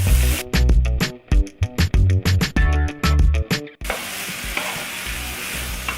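Vegetables with pimento seeds and a splash of vinegar are tossed in a hot pan: loud, close sizzling with choppy bursts as they are stirred, settling into a continuous hiss.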